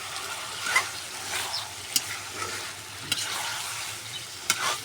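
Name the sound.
meat sizzling while being stir-fried in a pan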